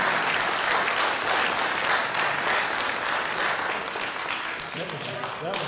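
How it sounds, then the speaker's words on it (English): Sustained applause from a town hall audience in Bentonville, Arkansas, a dense, even roar of many hands clapping that holds steady throughout. "That was the biggest applause line of all this."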